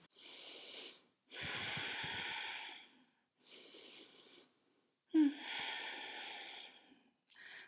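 Slow, audible breaths in and out during a hip-mobility yoga session, four long airy exhalations and inhalations with short silences between, close and soft.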